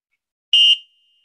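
A single short, high electronic beep from a 12-volt light-up game signals a correct answer, heard alone in silence.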